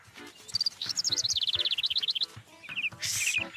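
A cartoon bird chirps in rapid, bright trills, a fast run of repeated high tweets with short pauses and a sharper burst near the end, close and clear.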